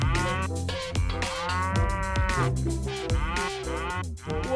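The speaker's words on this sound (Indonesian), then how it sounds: "Ternyata sapi perah." A dairy cow moos loudly and close, one long drawn-out low call filling the whole stretch with no talk over it.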